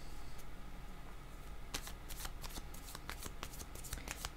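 Playing cards are riffled and shuffled, a quiet patter of crisp clicks that picks up partway through and continues over a faint room hiss.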